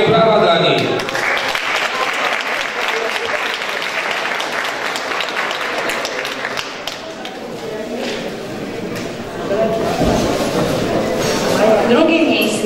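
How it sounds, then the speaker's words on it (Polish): Sustained applause from a school Christmas gathering audience during an award announcement, steady clapping that swells near the end, with voices audible underneath. "Wielkie brawa dla nich."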